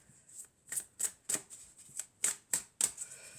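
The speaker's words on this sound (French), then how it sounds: "Donc, on va recommencer à mélanger." Oracle cards being shuffled by hand, about ten crisp riffling bursts in a steady rhythm, close and fairly quiet with no talk.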